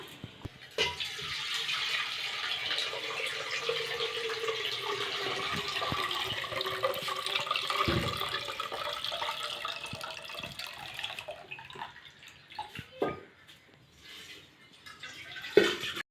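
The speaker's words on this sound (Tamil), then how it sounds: "இப்போ வந்து இந்த புளியாம்பழம் இப்போ கரைச்சிக்கிட்டு இருக்கிறேன்" Tamarind pulp is squeezed and stirred by hand in a bowl of water for horse gram rasam. Close, soft splashing and sloshing continues throughout, thinning out into scattered drips and small splashes toward the end.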